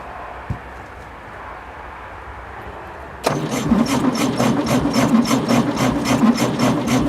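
A 1966 VW Beetle sits quiet for a few seconds, then its starter cranks and the engine catches abruptly, settling into a loud, rhythmic, slightly uneven running chug close by.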